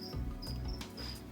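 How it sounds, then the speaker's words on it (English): Loose crickets loose in a room chirp in short, bright repeated bursts, close and clear, three or four trills spaced across a moment with faint handling noise beneath and no speech. "I got a few loose crickets in this room here"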